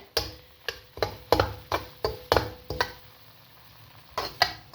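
Semolina fries in hot ghee as a spoon stirs it, giving a soft sizzle broken by about a dozen sharp knocking scrapes against the pan in an uneven rhythm, close up and with no talking.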